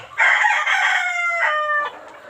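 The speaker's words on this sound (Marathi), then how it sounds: "इथे पण कोंबडी बसलेली आहे" A single loud rooster crow close by at a poultry farm, drawn out and strained, ending abruptly and followed by quiet.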